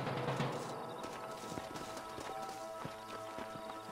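Horse hooves in the video game Red Dead Redemption clip-clop in a quick running rhythm, moderately near, under a dense, busy background of ambient noise.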